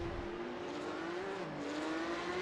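A Porsche 911 Cup (992.2) race car at Le Mans in the iRacing video game approaches a chicane, its engine a steady, close drone that dips and rises slightly in pitch, with no one talking.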